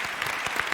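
A short burst of steady crowd applause, dense clapping from many hands at an event honoring a Quran memorizer.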